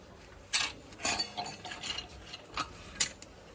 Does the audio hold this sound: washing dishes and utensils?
yes